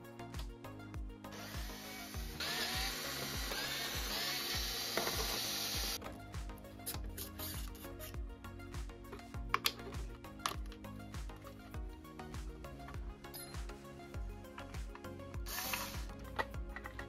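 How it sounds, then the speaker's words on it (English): Screws being driven out of the power supply of a JBL PartyBox Club 120 speaker during a teardown, a fairly steady buzzing tool whir running for most of the stretch over a constant tonal background. "Now we will remove the power supply by removing 9 screws."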